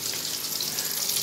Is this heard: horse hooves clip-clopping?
no